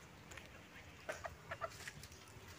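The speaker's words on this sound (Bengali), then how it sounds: "মুরগিগুলো এখানে খাচ্ছে" Chickens feeding outdoors near a mango orchard give a few soft, scattered clucks, fairly faint against quiet background noise.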